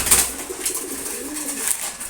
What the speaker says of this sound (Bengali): রেসার কবুতর খাবার খাইতেছে এখন